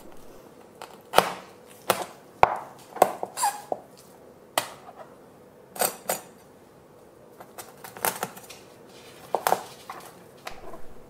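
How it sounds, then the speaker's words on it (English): A knife works through a salmon backbone, cutting between the vertebral discs, with sharp irregular clicks and knocks of blade on bone and board, close and loud against a quiet background. "You can cut this into smaller pieces by cutting between the discs."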